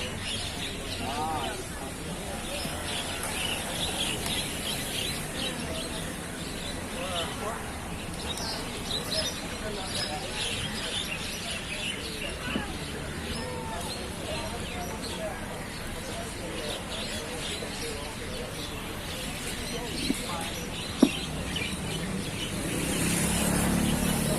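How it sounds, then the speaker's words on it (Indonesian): Large flock of starlings calling in Malaysia, a faint, continuous chattering mass of bird calls heard from a distance beneath people talking nearby, with a couple of sharp knocks near the end. "Ini suara burung jalak ini bos"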